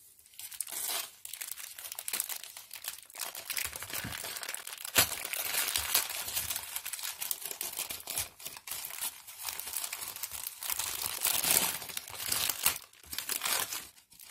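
A plastic bag from a parcel is crinkled and opened close up, a long stretch of dense, uneven rustling and crackling with a few sharper crunches and no talking.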